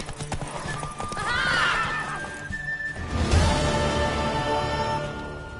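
In The Witcher 3: Wild Hunt video game, hooves clip-clop steadily while a horse gives a loud, drawn-out whinny, followed by a heavier stomp and continued hoofbeats.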